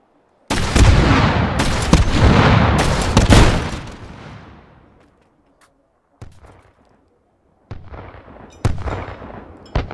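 Scalpel-LE rifle fired from a bipod in Hot Dogs, Horseshoes and Hand Grenades: a few loud, close booming shots with decaying tails, then sharper, quieter cracks separated by silences.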